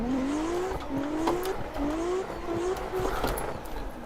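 Simulated 500HP Lexus GS300 in Assetto Corsa drifting on a track, engine note repeatedly rising in pitch through several revving pulls with tire squeal layered over it, steady and loud throughout.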